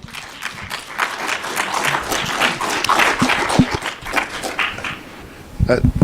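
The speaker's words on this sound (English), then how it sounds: "Let's give them a round of applause." An audience at a legislative update talk on the Great Salt Lake breaks into a round of applause, a moderate patter of clapping that swells and eases, with a voice coming in near the end.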